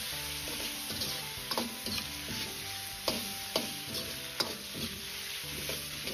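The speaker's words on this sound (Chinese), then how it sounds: "接着先倒入控干水分的土豆片翻炒" Drained potato slices stir-fried in a hot wok, a steady sizzle with repeated sharp scraping strokes of the spatula at an irregular rhythm, close and fairly loud, no talk.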